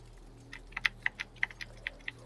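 Rapid keystrokes on a computer keyboard during a Fortnite session, a quick uneven run of about a dozen sharp clicks, close and clear over a faint steady hum, with no talking.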